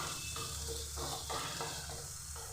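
Tomatoes and spices frying in a pan for a thin rohu fish curry with gondhoraj lemon, giving a continuous bright sizzle with rhythmic stirring strokes pulsing every half second or so, fairly quiet and without talk.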